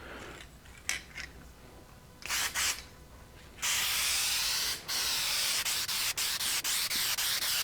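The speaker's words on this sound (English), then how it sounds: "I'm just going to go ahead now and spray 2 coats of the black lacquer, again going in both directions." Black lacquer sprays from an aerosol can onto a carved wood panel in a workshop: a few short hisses, then a long continuous spray burst followed by a series of quick repeated sprays.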